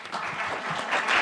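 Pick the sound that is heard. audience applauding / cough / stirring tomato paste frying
audience applauding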